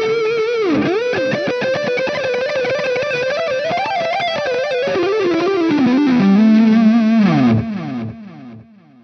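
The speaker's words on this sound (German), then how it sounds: "Als nächstes habe ich meinen verzerrten Solo-Sound." A distorted electric guitar solo tone on the neck pickup through a Fractal Audio rig, with delay on, plays a continuous singing lead line with bends and vibrato, loud and alone, before a held note cuts off.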